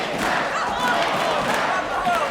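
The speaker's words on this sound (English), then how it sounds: "Listen to this crowd firmly behind their favorite Candy Crush." Wrestling crowd at a women's pro wrestling show roars and cheers steadily for the wrestler Candy Crush, a dense, loud wash of voices and shouts with no break.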